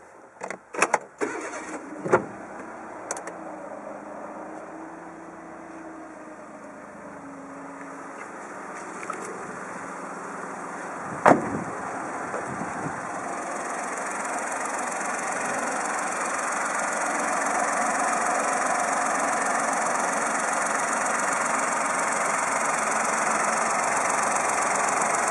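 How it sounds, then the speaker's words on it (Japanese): A Suzuki Palette MK21S car engine cranks with a few sharp bursts, catches, then settles into a steady, close idle that holds evenly to the end with a faint rising hum. "それではエンジンをかけてみます。"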